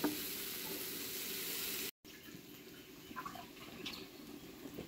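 Bitter gourd and jackfruit seeds frying in oil in an uncovered pan give a steady, moderately close sizzle, broken by a brief silent gap and then continuing with a few light clinks and stirring sounds.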